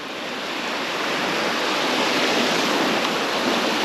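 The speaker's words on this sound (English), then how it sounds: "bit more waves now, which is good" Surf breaking over a Sussex reef gives a continuous, full, hissing wash that swells slightly and holds steady, heard alone with no voices.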